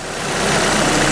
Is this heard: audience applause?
no